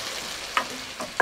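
Chicken with a mixed coconut paste fries in an open pan with a soft, constant sizzle. A few brief scrapes of stirring break in, close up and without speech.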